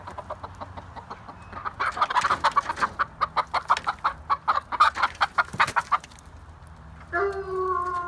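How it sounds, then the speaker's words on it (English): A red-bodied, black-necked hen clucks up close in a quick, steady series of calls, with some farmyard shuffling and a brief voice near the end. "It's going to be our black neck chicken."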